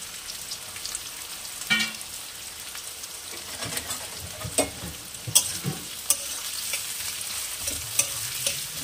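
Chicken pieces frying lightly in a pan for chicken korma give a faint, crackling sizzle, with scattered spatula knocks and scrapes growing busier toward the end, and no talk.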